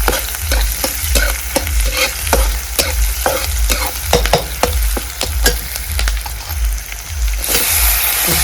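Onion frying in hot oil for a calcium-rich Ayurvedic vegetable dish, with loud steady sizzling broken by repeated sharp scraping strokes of a spoon or spatula stirring the pan; no voices.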